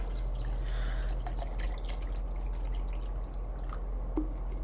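Evian bottled water pours into a cup in a faint, steady trickle with scattered drips, low and close in a quiet room.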